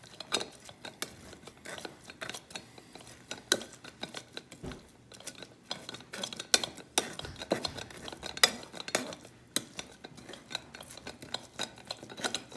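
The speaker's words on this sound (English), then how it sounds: "take a ladle or a spoon or something and just press this" A ladle presses and scrapes through hot sauce mash in a bowl to squeeze out juice, making quiet irregular clinks, taps and soft squishing sounds close by, without talking.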